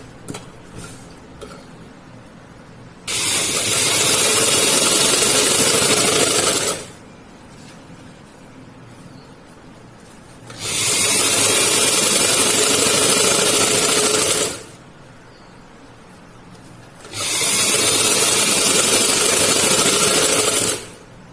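A sewing machine stitches a foam strip onto a salwar in three long, steady bursts of loud whirring, each lasting about four seconds and separated by quiet pauses.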